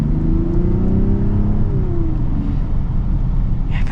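Cabin sound of a 2026 BMW X7 with its turbocharged inline-six accelerating: a deep, smooth engine drone with rising tonal layers that climb and then settle, loud and steady without speech.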